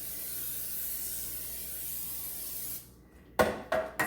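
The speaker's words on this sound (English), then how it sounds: "Make sure you spray it all the way around." A can of cooking spray hisses steadily around a baking pan for bread pudding, close and continuous, then cuts off and gives way to a few sharp clatters as the pan is handled.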